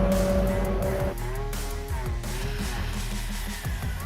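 A Rlaarlo ROG1 RC car on a stock motor and budget ESC makes a loud, close speed run at full throttle, its motor whine climbing in pitch, while wind noise and rough rumbling run underneath.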